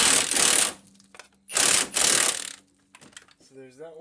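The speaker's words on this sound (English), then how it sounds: "now we're just going to want to tighten up those two screws." Two screws on a 1998 Nissan Sentra passenger-side axle are tightened with a power tool in two loud, close, buzzing bursts about a second each. A brief voice follows at the end.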